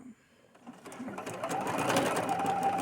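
Close-up whir of a sewing machine stitching upcycled fabric for a boho fairy skirt, starting slowly and building into a steadier, louder run over a few seconds.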